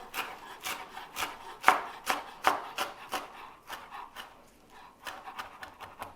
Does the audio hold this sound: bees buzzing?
no